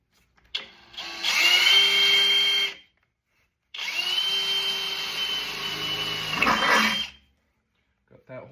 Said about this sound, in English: Got one hole drilled out, but I'll show me drilling another.